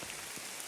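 Heavy rain pours down steadily on wet rock along a mountain hiking descent, a dense, continuous hiss of drops close by with no voices.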